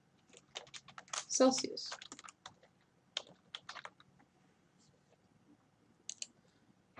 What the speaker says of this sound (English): now I'll type average temperature